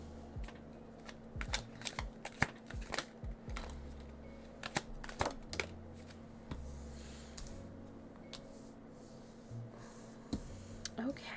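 Tarot cards are shuffled for a reading, a run of light, irregular riffles and taps, some sharp and close, while a voice speaks quietly in the background.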